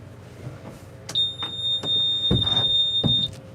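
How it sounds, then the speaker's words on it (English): A loud, piercing electronic beep holds one steady high tone for about two seconds, over thumps, clunks and handling noise from a fishing livestream setup. "Sorry in advance for the loud beep,"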